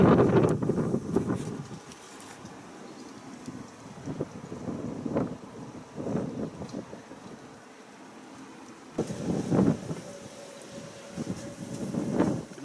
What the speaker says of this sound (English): It may be sunny, but it's windy